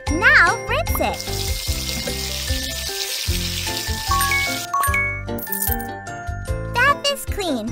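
Cartoonish water rinsing a bath in a kids' cleaning video game: a steady hiss of running water with bright chimes and jingling game effects and a playful backing melody, loud and continuous.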